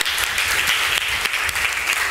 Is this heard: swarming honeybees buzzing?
no